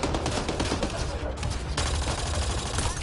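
Dense, loud gunfire from the video game Mass Effect Andromeda, rapid automatic bursts blending into a continuous fusillade throughout.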